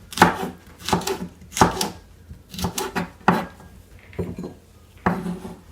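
A knife chops fish on a cutting board for Jamaican steamed fish and okra, about eight sharp, close thuds in an uneven rhythm with no talking.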